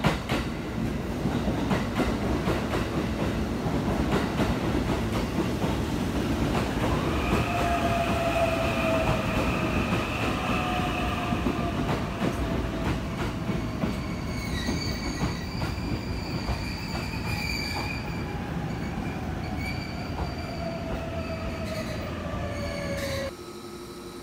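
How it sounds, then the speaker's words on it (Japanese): A JR East Joban Line commuter train pulls into a ground-level platform at Katsuta station: a steady heavy rumble with drawn-out, high wheel squeals that slide downward as it slows, then a brief thump as it stops. "3番線水戸方面より当駅勝田止まりの列車が間もなく到着をいたします。"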